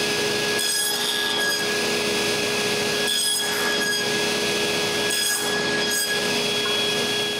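A power saw makes a series of short cuts into wood for a folding outdoor workbench, loud and close, its steady whine dipping in several brief rhythmic pauses.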